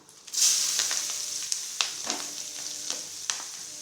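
Onions and green chillies hit hot oil with a sudden loud hiss, then settle into a steady close sizzle broken by a few stirring scrapes and taps, no talking.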